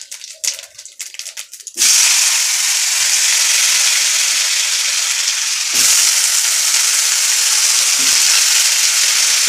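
Potatoes drop into hot oil already holding fried lentil dumplings, cumin, bay leaf and chilli, setting off a loud, continuous sizzle that swells abruptly after a few quiet scrapes and holds steady with a brief dip midway.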